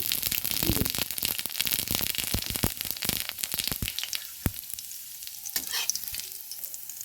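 Ingredients drop into hot white oil for oats khichdi and fry with a steady, close sizzle. Sharp crackles and spatters are spread throughout, with scraping stirs, and the frying eases slightly toward the end.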